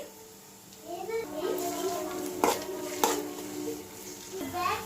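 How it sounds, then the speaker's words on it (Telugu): A spoon clatters and scrapes in a pan as turmeric and salt are stirred into sautéing onions for an egg curry, with sharp metallic knocks and a light sizzle heard under talking voices. "చిటికెడు పసుపు వేసి బాగా కలుపుకోవాలి"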